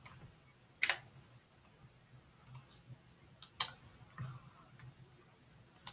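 Keys click on a computer keyboard during typing, a few sharp, sparse taps spread across a quiet room. The taps are close and isolated, with a soft low hum underneath and no speech.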